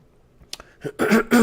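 A single throat clearing, close and fairly loud, building from a few small rough catches into two strong, harsh bursts.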